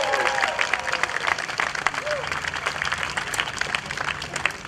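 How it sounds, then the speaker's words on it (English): Steady audience applause fills a community singing event, dense clapping from a crowd with some faint voices and whoops mixed in, sustained and fairly loud throughout. "Let's give them a great big round of applause,"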